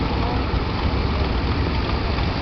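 A 1937 Case Model L tractor engine runs steadily, a dense, continuous low rumble with no pauses, close and fairly loud.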